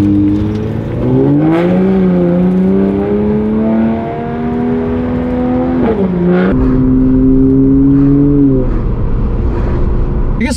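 A fast car accelerates hard on a road in Calgary, its engine note climbing steadily and dropping sharply at each gear change, loud and close throughout.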